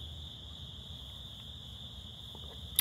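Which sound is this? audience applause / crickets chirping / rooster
crickets chirping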